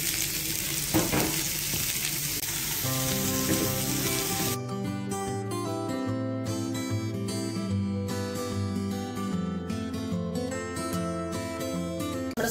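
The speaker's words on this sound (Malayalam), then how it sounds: "ഇനി നമുക്ക് സബോളയും പച്ചമുളകും വെളുത്തു ജിഞ്ചർ ഗാർലിക് പേസ്റ്റും എല്ലാം കൂടി ആഡ് ചെയ്യാം." Chopped onions, green chilli and ginger garlic paste fry in hot oil for a Kerala-style chattipathiri. A steady, close sizzle runs the whole time, with no voices.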